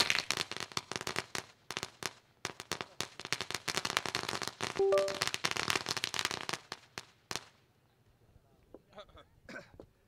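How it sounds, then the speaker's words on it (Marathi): Firecrackers bursting to welcome players at a village cricket tournament match: a dense, rapid barrage of loud cracks and pops lasting several seconds, then stopping abruptly into quieter scattered noise. "साहेबांचं फटाक्याच्या आतिषबाजीने इथे मात्र स्वागत केलं जाईल"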